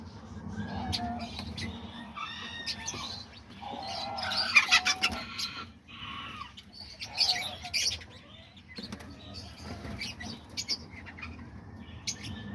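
Aviary budgies, lovebirds, diamond doves and cockatiels sing together in sunshine, a busy overlapping mix of chirps, warbles and squawks at close range with brief wing flutters.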